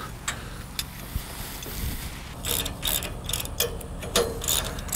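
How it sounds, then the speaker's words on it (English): A ratchet tightens bolts while a Ranch Rite 7-head disc mower is assembled, giving bursts of quick clicking strokes near the microphone, sparse at first and then denser and repeated, with no talking. "install your bolts and tighten them all up"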